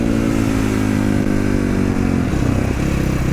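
A Sherco 500 SM 2020 motorcycle engine drones loud and close, a steady throbbing rumble whose pitch eases and shifts partway through, with no voices.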